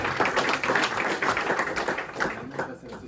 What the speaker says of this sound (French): Quelques applaudissements déjà.